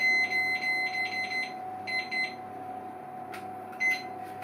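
An oven timer being set while baking sourdough bread, giving a run of short, high electronic beeps in quick clusters, then a few separate beeps over a low steady hum.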